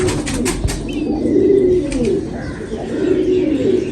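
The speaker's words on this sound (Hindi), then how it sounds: "ये कबूतर है।" Pigeon cooing close by in soft, repeated low rounded phrases, with a few chirps and a brief wing flutter among ambient noise.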